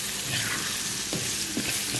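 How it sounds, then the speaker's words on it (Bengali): Cut potato pieces, washed and unseasoned, frying in hot oil in a pan, giving a loud, continuous crackling sizzle up close with a few brief stirring scrapes. "এরপর আমি আলুগুলো ভেজে নিব।"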